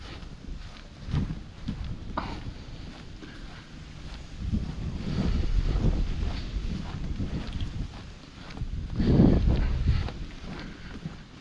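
Gusty, cold wind on a golf course buffets the microphone in low rumbling surges, strongest in the middle and near the end, with no voices present.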